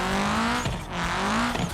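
SBR Street Tune car in Sport Plus mode in a video game, a loud, close engine drone rising in pitch through two revving pulls with a brief dip between, like a quick gear change.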